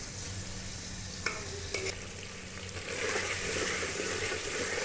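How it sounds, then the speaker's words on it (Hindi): Onions and chicken stir-fried in a pan for a shalgam (turnip) chicken dish, a steady broadband sizzle with a few sharp scrapes of the spoon, growing louder and denser toward the end, with no voices. "अब हम लोग इसकी अच्छी तरह भुनाई करेंगे।"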